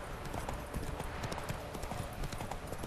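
Horse hooves clip-clop in a steady, fairly close rhythm in The Witcher 3: Wild Hunt, with a faint background hum and no talk.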